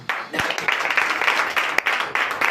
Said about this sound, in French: Mais déjà, on peut applaudir.